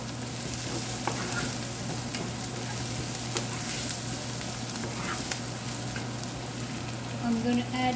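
Squid tentacles fry with curry leaves in a pan, a steady close sizzle and crackle throughout, with occasional stirring clinks and no talk.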